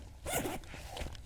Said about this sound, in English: Got that good quality zip going on there.